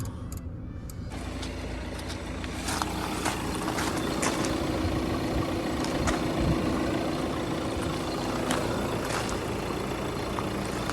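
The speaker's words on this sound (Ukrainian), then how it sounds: "вже у нас двигун трішки прогрівся. Працює ідеальний." A 2015 Audi A4 B8 2.0 TDI diesel engine idles steadily while warming up, with a constant low rumble, some faint clicks and rattles scattered throughout, and no talking.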